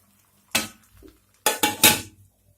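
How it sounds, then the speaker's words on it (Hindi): A metal lid set onto a cooking pot of mutton biryani makes one sharp clatter, then a quick run of three ringing metallic knocks and scrapes as it settles, close and loud against quiet. "अब इसको ढक के रख देते हैं पकने के लिए"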